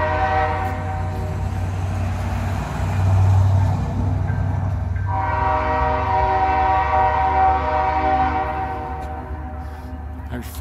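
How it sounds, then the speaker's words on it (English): A train rolls past a small-town square in Valley Head, Alabama, with a loud, steady rumble of railcars under a sustained multi-tone horn that blasts, pauses briefly, then sounds again through the rest of the passage. "Hear a train a coming."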